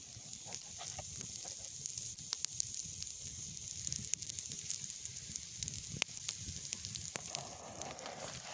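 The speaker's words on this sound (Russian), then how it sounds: "Как видите, все горит, все занялось." Wet wood burning in an outdoor campfire, giving a steady soft crackle and hiss with scattered sharp pops throughout, moderately faint and with no talk.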